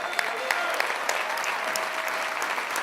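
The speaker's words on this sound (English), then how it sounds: "A round of applause." Sustained applause from a convention crowd at the opening of a National Action Network gathering, a dense steady wash of clapping with scattered louder claps, with no talk.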